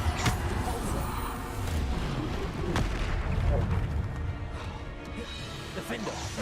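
Bombarda explosion spells in Hogwarts Legacy, a few heavy blasts with booming low impacts amid spell-combat noise, while a voice repeatedly calls out spell names over the action.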